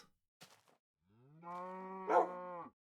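Cows in a video game give a single long, drawn-out moo that swells and fades, preceded by a few faint soft noises, alone and fairly quiet.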